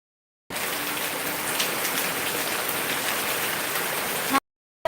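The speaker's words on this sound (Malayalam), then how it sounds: "നല്ല മഴയാണ് കേട്ടോ മഴ എന്ന് വെച്ചിട്ടുണ്ടെങ്കിൽ പൊരിഞ്ഞ മഴയാ പൊരിഞ്ഞ മഴ" Heavy, steady rain pours down in a dense, even hiss that holds at the same level for about four seconds and then cuts off abruptly.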